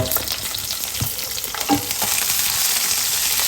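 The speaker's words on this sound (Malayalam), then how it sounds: "എണ്ണ ചൂടായി കഴിഞ്ഞാൽ ഇതാ മുളക് ഇട്ട് കൊടുക്കുക" Green chilies frying in hot oil, a loud, close, steady sizzle with scattered crackles and a few stirring knocks.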